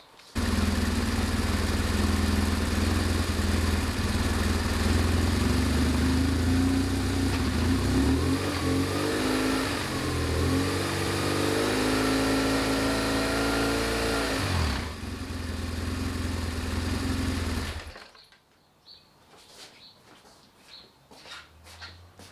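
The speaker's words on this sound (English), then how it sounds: "So we've got to start and go to 3000, and it's really too noisy for me to speak" A BMW 1150GS motorcycle engine runs loud and steady near 3000 rpm for about eighteen seconds, the pitch wavering slightly as the throttle is adjusted, then cuts off to quiet clicks and shuffling.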